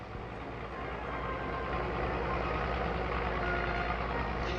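A huge scrapyard at Waltham Cross, with a truck engine rumbling steadily and the regular beeping of a reversing alarm carrying through the busy yard.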